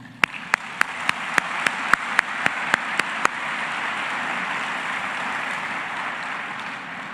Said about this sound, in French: Merci 1000 fois en une salve d'applaudissements.